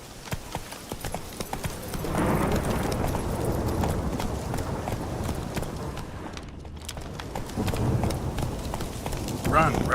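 Roach the horse gallops in The Witcher 3, a rapid run of hoofbeats under game ambience, near and steady, with a voice speaking over it.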